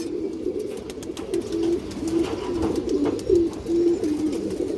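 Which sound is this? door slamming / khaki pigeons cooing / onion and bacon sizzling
khaki pigeons cooing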